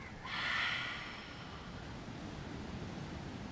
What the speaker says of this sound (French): Une dernière fois, inspire, on bloque et on expire avec la bouche.